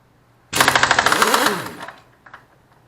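Pneumatic impact wrench hammering loose the rear sprocket nut on a 2006 Kawasaki ZX6R 636 motorcycle, one loud rapid rattling burst of about a second and a half, then winding down into quiet clicks.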